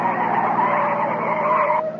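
Car tires skid in a sustained, loud screech that holds steady for about two seconds before cutting off, close and harsh, as police cars box a vehicle in.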